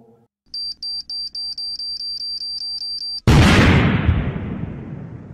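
A beeping electronic alarm pulses in a fast regular rhythm for about three seconds before a bomb blast in a film cuts it off with a sudden loud explosion that rolls away into a long fading rumble.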